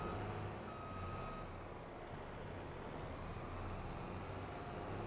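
A large combine harvester backs out of a barn in Farming Simulator 22, a steady engine drone with a thin reversing-beep tone running underneath, no talking.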